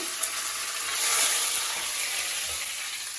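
Curry leaves sizzle and crackle in hot oil for a Kerala-style fish pickle, a steady close frying hiss that swells briefly in the middle, with no one talking.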